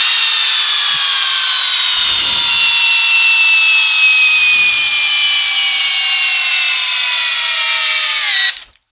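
A Ridgid R861152 hammer drill on a fully charged 6-amp-hour high-output battery runs continuously under load in a torque test, a loud steady whine with slowly falling pitch that stops abruptly near the end.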